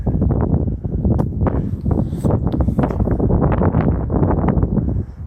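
Wind blowing outdoors at a rubbish dumping site, a steady loud rush with gusty buffeting against the microphone throughout, no voices.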